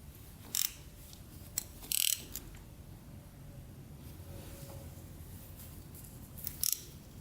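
Engine of a Honda 300ex quad being turned over by hand with a 17 mm socket, giving a few sharp ratchet clicks in short bursts against a quiet background.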